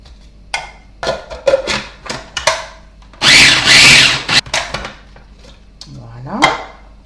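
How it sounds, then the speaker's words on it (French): Pieces of sandwich bread are chopped into breadcrumbs in a small food processor: clattering, knocking handling sounds, then a loud whirring burst of just under a second, followed by more clinks and rattles. "je vais couper ma tranche de pain de mie en morceaux que je vais mettre dans mon petit"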